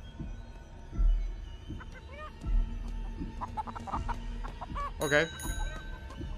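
Cartoon chickens cluck in a video game, with several short clucks and a louder burst of squawking near the end, mixed with game sounds and a brief spoken word.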